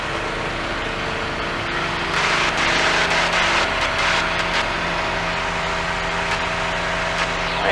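A Dornier Do-27 light aircraft engine runs up toward takeoff power, a steady, loud droning roar that swells in intensity partway through and holds, close and continuous.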